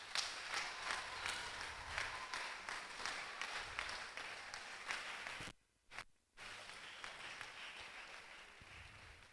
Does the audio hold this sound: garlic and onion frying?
no